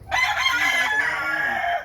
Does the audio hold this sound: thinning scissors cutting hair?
no